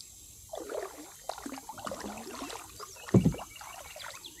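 Paddle strokes and water splashing from a Tucktec folding kayak on Cooper Lake on a hot July morning, irregular dips and drips close by with a brief louder splash near the end, no talking.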